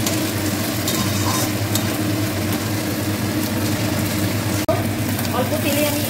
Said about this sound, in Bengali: দেওয়ার পরে একটু নেড়ে দেবো